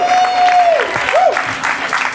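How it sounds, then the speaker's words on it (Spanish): Applause from an audience at a live talk or storytelling event, steady clapping under a voice that carries through it. "Ariel Pérez Price, vamos a darle por favor un fuertísimo aplauso."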